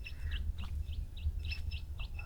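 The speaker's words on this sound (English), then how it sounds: "Quite a few birds around." Birds around a Sri Lankan resort give faint, repeated short chirps and tweets at irregular intervals, heard at a distance over a steady low background rumble.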